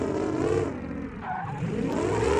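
A drift truck in the BeamNG driving game drones with two overlapping exhaust tones. The engine sound is steady and loud, dips briefly in the middle, then swells back up.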